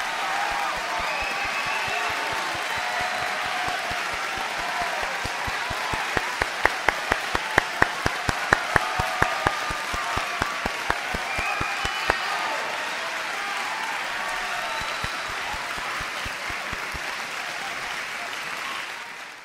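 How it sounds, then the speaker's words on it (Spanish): Steady, dense applause from a crowd during a live Florida driving theory exam review session, sustained for nearly twenty seconds at an even level, with a few sharper, louder individual claps standing out in the middle. "un aplauso para todos ustedes."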